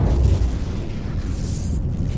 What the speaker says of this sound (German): we'll soon see the largest explosion ever set off on the face of the earth